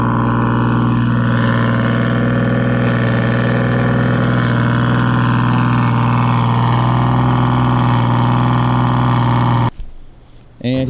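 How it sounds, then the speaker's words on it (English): A boosted Nissan VQ V6 engine's exhaust, fitted with resonators, rumbling loudly at a steady idle with a deep droning tone, then cutting off abruptly near the end. "so that we can hear the exhaust"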